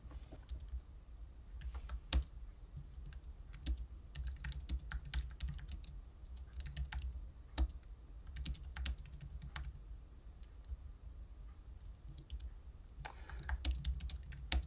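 Steady typing on a computer keyboard while writing a docstring for mathlib code, a run of soft clicking keystrokes with occasional sharper key hits, close and fairly quiet over a low hum, with no talking.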